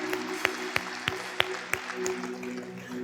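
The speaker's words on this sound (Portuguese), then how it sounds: "Palmas para esse homem que é casado com essa mulher maravilhosa." A church congregation applauds, with sharp claps falling in a fairly steady beat over a low, constant hum, heard at moderate distance without speech.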